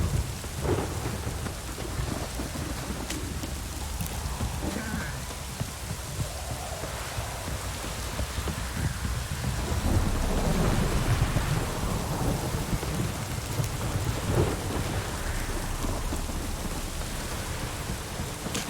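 Video game rain pours down steadily with low rumbling thunder rolling underneath, a continuous dense wash of sound with no voices.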